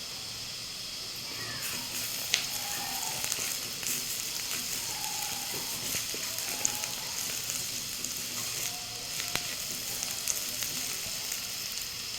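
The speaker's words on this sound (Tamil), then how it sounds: "தட்டி வச்ச பூண்டை இப்போ நான் போடுறேன்" Crushed garlic tossed into a pan with half-sautéed onions for a broad bean and brinjal stir-fry sizzles and hisses continuously, with occasional sharper crackles and pops.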